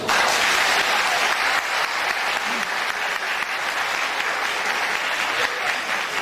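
Wedding guests break into steady, dense applause from a large crowd in a hall, sustained at an even volume throughout without a break.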